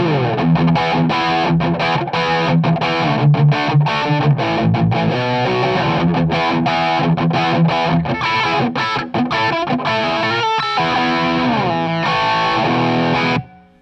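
A heavily distorted electric guitar, a Line 6 Variax through a DT25 head and Pod HD500, plays a dry, punchy riff with chugging chords and short breaks, loud and upfront with no reverb.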